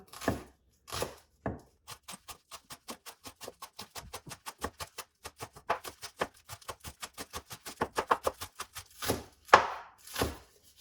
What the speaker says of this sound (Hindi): तो यहाँ पे इसको ब्रीक ब्रीक काट लेंगे हम